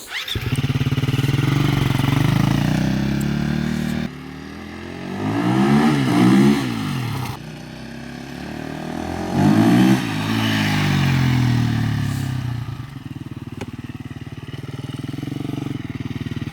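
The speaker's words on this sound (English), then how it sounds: "This bike never did second gear wheelies just pulling the throttle." A Husqvarna FE350 dirt bike engine rips through repeated open-throttle accelerations, revs rising and falling in loud surges between idling stretches, close by and without talk.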